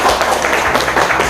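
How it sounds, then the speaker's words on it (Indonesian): A group claps together in a brief burst of steady applause, close and lively. "tepuk tangan untuk kelompok"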